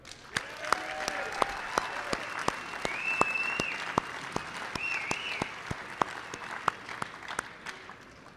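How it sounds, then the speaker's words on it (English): Applause rises at an Iditarod after-race banquet, a moderate crowd clapping steadily with a few sharp, regular claps standing out, while a voice speaks over it. "How about a big live stream round of applause for Emily all the way from Nome?"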